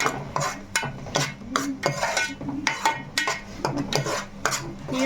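A spoon scrapes and clinks against a pan while stirring tomato and masala, a rapid irregular series of sharp metallic knocks and scrapes, close and fairly loud, with no talk.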